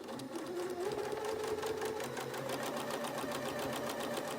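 Sewing machine with a quarter-inch flanged presser foot stitching a quilt block seam, a close, steady rapid whir with a faint pulsing rhythm throughout and no talking.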